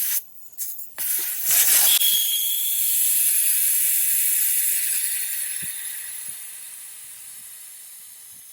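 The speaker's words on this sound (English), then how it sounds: "So I'll let this tire down. So I'll go ahead and take the valve core out and let it down faster that way." Air hissing loudly and steadily out of a large 285/70/17 Jeep tire with the valve core pulled, following a few clicks of handling, then slowly fading as the tire deflates.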